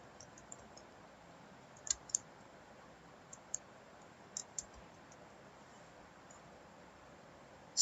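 Computer mouse clicking on a quiet desk, a handful of sharp, faint clicks scattered irregularly, some in quick pairs, over low background hiss.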